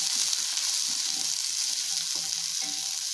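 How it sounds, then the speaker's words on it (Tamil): Small onions and dried red chilies fry in hot oil, a dense, steady sizzle that fills the whole stretch evenly with faint stirring underneath and no voices. "அது கூடயே அந்த 20 சின்ன வெங்காயத்தையும் போட்டு நல்லா வதக்கிக்கலாம்."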